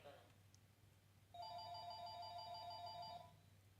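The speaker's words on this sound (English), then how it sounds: "That's my landline ringing." A landline telephone rings indoors with an electronic, warbling ring. It starts abruptly partway through and holds steady and fairly loud for about two seconds before cutting off.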